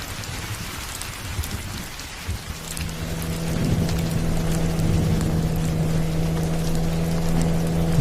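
Heavy rain pours at night in a steady, dense wash, with a low rumble and a droning engine-like hum growing in partway through.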